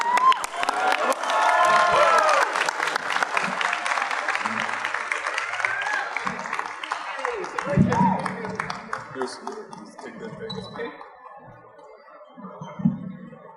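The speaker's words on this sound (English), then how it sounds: "Let's get a round of applause." Audience at a Frank Miller comic convention panel in Los Angeles applauds and cheers loudly, with whoops and shouts over dense clapping that gradually thins and fades, leaving scattered voices and a few last claps.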